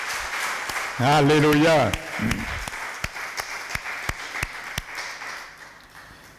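A church congregation breaks into applause, a sung or shouted voice rising briefly before scattered claps continue, with someone speaking over the room.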